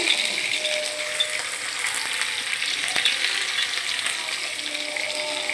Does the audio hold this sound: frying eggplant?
yes